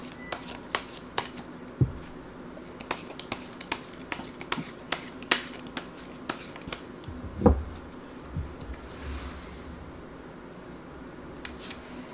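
Tarot cards being shuffled and drawn, heard as a run of crisp snapping clicks and flicks at a steady pace, close and fairly quiet, with a louder thump partway through and no talking.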